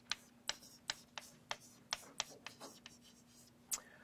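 A pen scratches by hand on a surface, a series of sharp, evenly spaced strokes and taps over a steady low hum, close and fairly quiet, with no speech.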